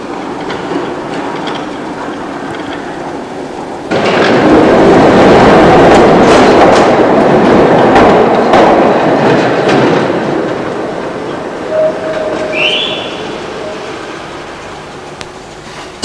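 A diesel railcar on a vicinal tram line at night rolls past, quiet at first, then a loud close rumble with clacking wheels that fades away, followed by a brief wheel squeal and faint tones.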